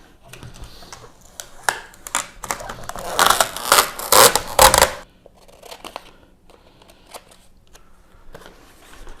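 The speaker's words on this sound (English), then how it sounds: "I'm gonna remove the tape and the transfer tape" Tape and transfer tape are peeled off a vinyl sticker for a car magnet, giving close crackling and ripping bursts that peak in the middle, then a few scattered small clicks and taps.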